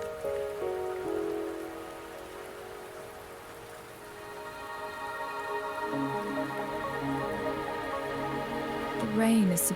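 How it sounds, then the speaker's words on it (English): Steady rain falls on surfaces in the video game Wuthering Waves, a constant patter beneath sustained musical tones and a brief voice. "The rain is subsiding, and the sky will soon clear."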